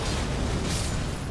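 Explosive clouds thrown by an enemy in the video game Elden Ring burst in a loud, dense, rumbling blast that fills the moment, with a brief hissing rise partway through.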